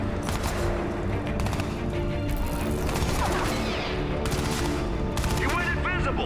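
Gunfire in the video game Crysis 3, played on PC: loud, close bursts of rapid shots repeat over a steady roar of game noise, with crashes and whooshing effects between volleys.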